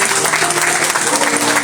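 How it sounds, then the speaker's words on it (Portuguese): Dense, steady applause from a church congregation during a missions service, a full, continuous wash of many hands clapping close by. "Vamos uma salva de palmas a Jesus pela vida deles?"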